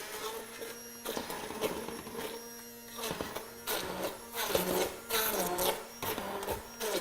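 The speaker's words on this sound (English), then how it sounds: "I'm just going to quickly puree up my cauliflower here" A food processor purees cauliflower with mascarpone cheese in pulsing bursts, a whirring motor hum that rises and dips with choppy rattling, close and steady with no talk.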